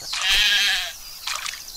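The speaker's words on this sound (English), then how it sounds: "I'll definitely want to take that sheep out." A sheep in the crafting game Craft The World gives a single clear bleat, followed by a short softer second call.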